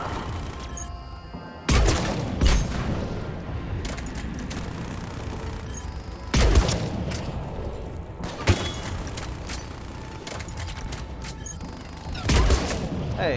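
Gunfire in the Mass Effect 3 video game during a Volus reinforcements mission: several loud, sharp bursts of shots stand out against a steady background of game ambience, with quieter shots in between.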